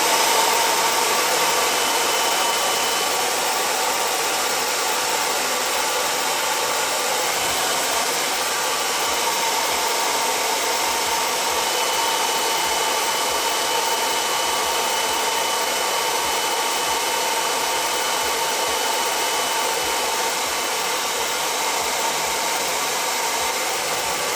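Electric heater on its second heat setting, running from an Aferiy P-210 2400 W power station, gives a steady, loud fan-like whoosh that holds unchanged and alone throughout.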